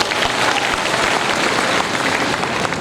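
Steady applause from a large audience at a university graduation ceremony, dense continuous clapping filling the hall without pause.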